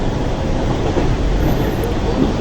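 A long-distance train from Mumbai arriving at Thane station at dawn, with a loud, steady rumble and rattle of railcars rolling on the rails, continuous and close.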